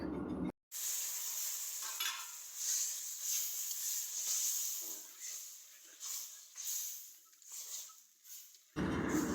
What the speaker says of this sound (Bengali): এখন একটুখানি সুজিটাকে ভালো মতো ঘেটে দিচ্ছে তলাতে যেন লেগে না যায়